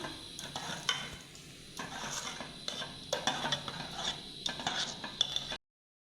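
Boiled toor dal being stirred into spices in a pan for spicy fodniche waran, with steady scraping and clinking of a spoon against the metal over a soft sizzle, close and fairly quiet.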